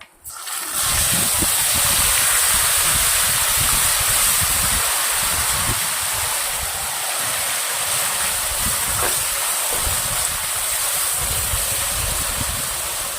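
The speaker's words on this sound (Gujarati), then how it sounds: "હવે નાખવાના છે ટામેટાં" Tomatoes hit hot oil already spiced with dried red chilies, bay leaf and kasuri methi for a potato curry, setting off a loud, steady, close sizzle that holds without a break.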